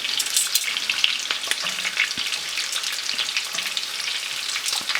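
Walleye fillets fry in a hot pan with a steady, close crackling sizzle throughout, broken by light clicks and scrapes as tongs flip the golden, crispy pieces.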